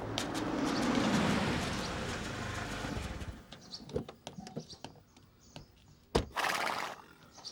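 A horse neighs loudly in a long whinny, followed by scattered hoof clops and faint outdoor sounds, with no one speaking.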